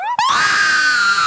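A woman in a school stage production of the play Clue lets out a loud, sustained high-pitched scream, briefly broken and then held, heard alone and close.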